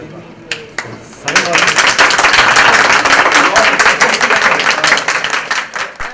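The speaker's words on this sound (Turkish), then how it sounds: "kursiyerler Vali Mustafa Tutulmaz'ı alkışlarla karşıladı" Carpet and kilim workshop trainees applaud the visiting governor, a few scattered claps giving way to sustained, loud, dense clapping from a nearby group, with voices mixed in.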